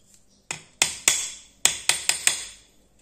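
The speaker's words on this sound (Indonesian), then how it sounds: "Kita coba pastikan menggunakan palu." Hammer blows driving a steering bearing into a Yamaha Mio Sporty scooter: seven sharp metallic strikes in an uneven rhythm, close and crisp, each ringing briefly, with quiet gaps and no talk.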